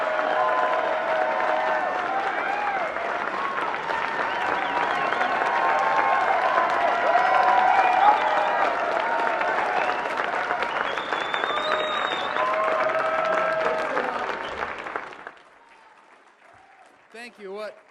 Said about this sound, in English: Please give it up for Congressman Justin Amash